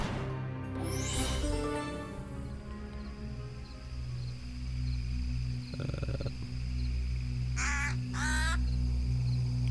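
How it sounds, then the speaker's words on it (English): A bird caws in the video game Dark Parables 7, several harsh, close calls over a steady ambient game soundscape with low droning tones. "I've heard that bird so many times"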